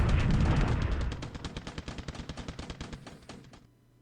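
Anti-aircraft flak aimed at a B-17 bomber in a WWII strategy video game: a loud opening blast, then a rapid rattling string of sharp bursts that thins out and stops abruptly.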